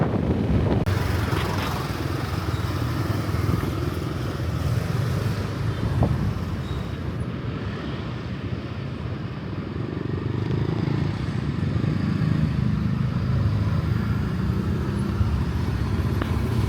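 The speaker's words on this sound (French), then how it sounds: "Regardez de l'autre côté comment c'est bouchonné." Inside a car crawling through a traffic jam in Ubud, Bali: a continuous engine and road drone with the surrounding traffic and scooters rumbling close by, steady and fairly loud throughout.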